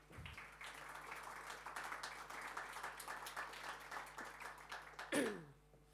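A conference audience gives faint, scattered applause for several seconds, ending with a brief rising squeal near the close.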